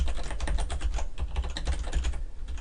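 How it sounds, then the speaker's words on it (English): Rapid, steady clatter of keys on a computer keyboard as a line of text is typed into a document, close and continuous with no talking. "typing here is a line of text"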